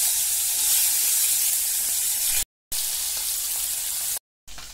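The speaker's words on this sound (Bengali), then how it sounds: "মাছগুলো আমি ভেজে নিচ্ছি।" Small puti fish fry in hot mustard oil, making a loud, continuous close-up sizzle and hiss that cuts out briefly twice before resuming.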